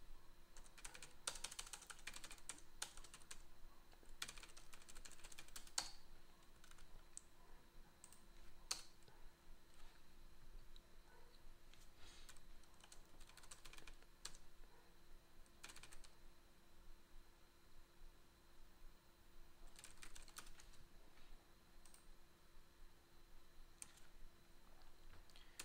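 Typing on a computer keyboard, faint close keystrokes arriving in irregular bursts separated by pauses, with quiet background hum throughout and no talking.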